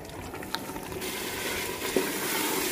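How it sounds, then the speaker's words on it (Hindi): Beef liver frying and being stirred in a pan, a steady sizzle with scraping and clinking of the spoon against the pan, a couple of sharper taps. "अच्छे तरीके से इसको भूनेंगे।"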